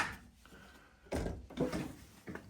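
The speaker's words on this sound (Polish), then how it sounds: "Otwieramy tutaj y, drzwi od Holanda" Wooden door of a rabbit enclosure, likely a hutch, being opened with a couple of close knocking and scraping thumps over faint background hiss.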